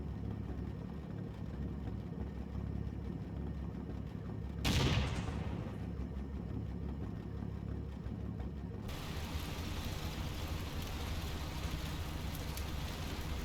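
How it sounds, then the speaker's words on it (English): A flak gun opens fire on armour in the WWII wargame Combat Mission Kampfgruppe Peiper near a bridge over the Ambleve: a sharp loud blast cuts through a constant battle rumble, followed by ongoing crackling gunfire. "A flak gun opens up on the armour at Overwatch 1"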